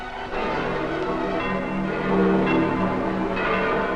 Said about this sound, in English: But in Rome, eternal city, the Vatican bells of St. Peter's ring in peace